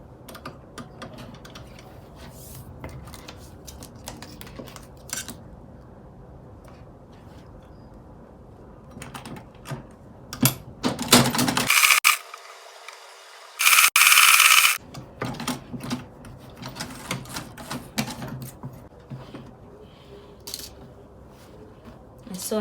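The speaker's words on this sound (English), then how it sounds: "So now I am going to be sewing with 1 inch sewing allowance." A sewing machine stitches a one-inch zip allowance on an Ankara gown, with two short loud bursts of steady whirring between quieter handling clicks and rustling of fabric.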